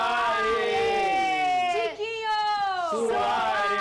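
Packed stadium crowd at Engenhão roaring a call-and-response chant for a Botafogo player, a huge sustained massed-voice swell answering a single caller, loud and continuous with a brief dip midway.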